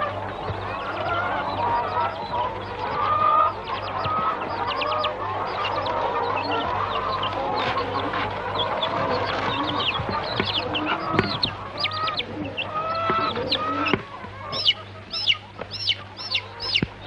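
Chickens clucking and honking in a busy yard, a continuous layered fowl chorus with sharper calls rising toward the end, steady background hum underneath.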